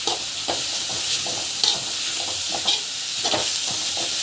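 Food sautés in a pan with chili powder and chaat masala, a close, steady sizzle broken by regular stirring scrapes and clinks, with no talk over it.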